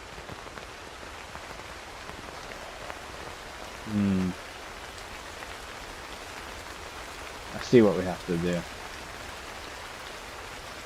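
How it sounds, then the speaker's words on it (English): Steady rain falls in the climbing video game Cairn, a soft continuous patter beneath brief bursts of a man's speech. "I'll wait until it stops raining."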